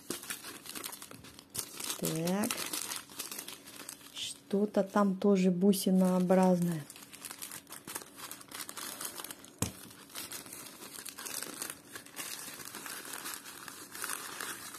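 Crinkling plastic packaging rustles near the mic while someone speaks Russian over them, with a sharp tap partway through and soft handling noises after.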